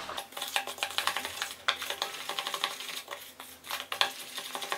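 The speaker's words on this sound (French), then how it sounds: "Elle mélange." Used coffee grounds mixed with milk get stirred into a paste in a bowl, a close, rapid series of spoon scrapes and small clinks in an uneven rhythm.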